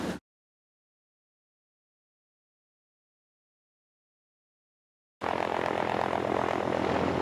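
After a long stretch of silence, a helicopter's loud whirring drone with a steady chopping pulse cuts in abruptly and continues close by, flying into Fiordland.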